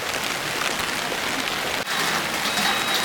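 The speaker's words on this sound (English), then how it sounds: "We are braving the rain." Rain falls steadily at an outdoor wildlife park, a dense even hiss of drops pattering on surfaces close by, continuous through the whole stretch with no talk.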